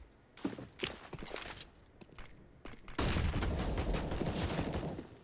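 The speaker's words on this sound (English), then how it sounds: "Zipex, some suppressing shots" Suppressing gunfire in Counter-Strike during a competitive match: scattered sharp shots with gaps, then a dense sustained burst of rapid fire from about halfway through, fairly loud and close.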